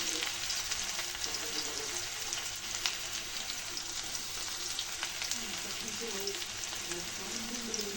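Onions and jakhiya seeds crackle in hot oil for a tempering, making a steady, moderate sizzling hiss with a few pops, while a voice is faintly present at times.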